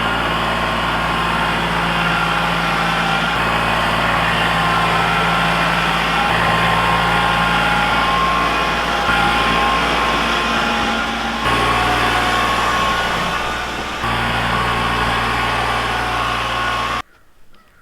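Diesel tractor engine working hard while plowing a flower field, a loud continuous drone with shifting load and pitch that runs steadily before cutting off abruptly at the end.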